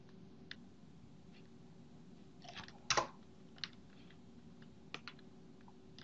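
Sparse keystrokes on a computer keyboard while a formula is typed into Power BI's Power Query editor, a few scattered soft clicks with a louder cluster near the middle, fairly close in a quiet room.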